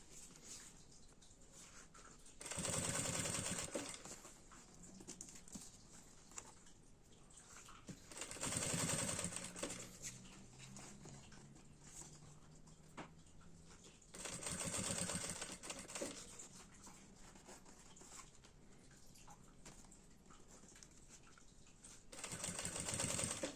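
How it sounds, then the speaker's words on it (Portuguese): A domestic sewing machine stitches a seam in four separate bursts of rapid, even mechanical whirring, each a second or two long, with quiet pauses between as the sewer stops and restarts. "vou fazer uma costura, que eu preciso ficar parando"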